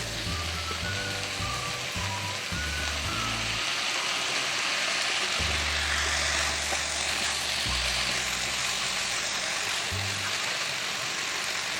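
Vegetables for chicken spaghetti sizzle steadily in a frying pan as black pepper and soy sauce go in, a loud, continuous hiss up close with a low hum underneath.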